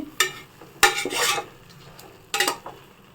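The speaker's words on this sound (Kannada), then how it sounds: "ಮಶ್ರೂಮ್ ಸೇರಿಸ್ತಾ ಇದ್ದೀನಿ ಮಶ್ರೂಮ್ ಹಾಕಿ ಅದನ್ನು ಚೆನ್ನಾಗಿ ಮಿಕ್ಸ್ ಮಾಡಿ" Mushrooms stirred in a pan for mushroom donne biryani, with a few sharp scraping clinks of a spoon against the pan in separate bursts and faint sizzling between them.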